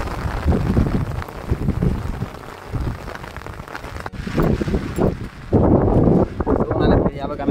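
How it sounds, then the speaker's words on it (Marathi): Heavy rain pours down outdoors on the water during fishing from a boat, a steady hiss mixed with wind buffeting the microphone, while someone talks over it. "खूप जोरात आलेला आहे पाऊस"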